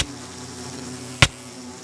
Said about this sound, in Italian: Le api mi seguono, le api!